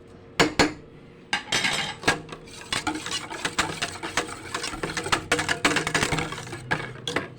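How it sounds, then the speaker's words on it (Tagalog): Batter for a steamed buko pandan cake is mixed in a bowl after baking powder and salt are added, with repeated clinks and scraping strokes of a utensil against the bowl, close and fairly loud, with no talking. "At imimix muna natin."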